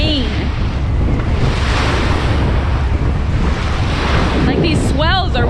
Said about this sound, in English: these swells are wild